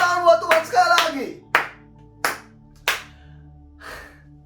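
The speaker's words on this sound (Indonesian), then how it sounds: "Kamu tepuk tangan buat Tuhan sekali lagi." A church congregation at an Indonesian online service claps for God, with a few claps up front under a faint voice, then several sharp, separate handclaps spaced about a second apart, fading out quietly.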